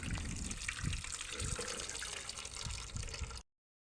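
Worm tea draining from a vermicompost bin, a continuous trickle and splash of liquid running close by for several seconds before stopping abruptly.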